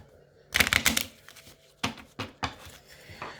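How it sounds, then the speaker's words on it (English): A quick riffle of playing cards being shuffled, followed by a few softer flicks and taps, close and quiet. "Let me shuffle them up a little bit here."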